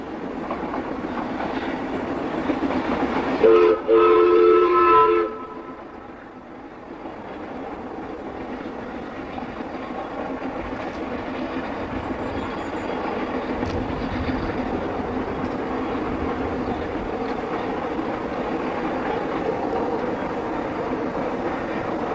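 A Ffestiniog Railway narrow gauge steam train running along a hillside above a lake in Gwynedd, Wales, giving a steady rumbling roll of carriages with a brief louder burst early on, then a continuous moderate drone.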